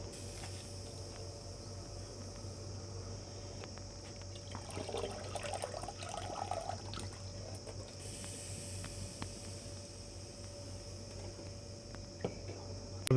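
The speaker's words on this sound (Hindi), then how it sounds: "पानी उबर रहा है" Rice dropped into a pot of boiling water while cooking chicken yakhni pulao, giving a steady low bubbling hiss with a brief louder burst of sizzle and trickle partway through, no one talking.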